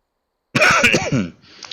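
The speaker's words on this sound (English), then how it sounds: "This damn cough." A single throat-clearing cough, loud and close, bursts out after a short silence and trails off into a quieter rasp.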